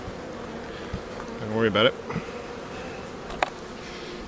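Honeybees in an all-medium beehive during an inspection make a low, close buzz that swells briefly mid-clip, with a quiet voice speaking and faint handling clicks.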